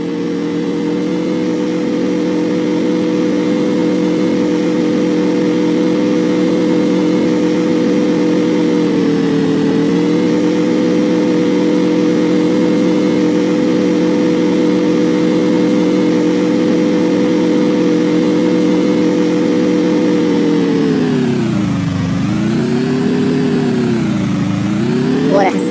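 A video game car engine idles as a loud, continuous drone, close and steady for a long stretch. Near the end it dips and swells in pitch as the vehicle is turned, and no one talks.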